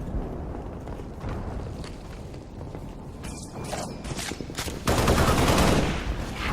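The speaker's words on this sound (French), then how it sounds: "On me tire dessus!" Gunfire in the Halo Reach game, with a burst of rapid shots and mechanical clatter over a rumbling background that grows louder near the end, without talk.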